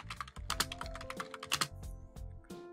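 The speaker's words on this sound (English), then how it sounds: "just type it in" Keys on a computer keyboard clatter in quick irregular bursts of close, crisp clicks and taps with a faint steady tonal hum underneath and no speech.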